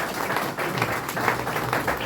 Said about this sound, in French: merci de nous applaudir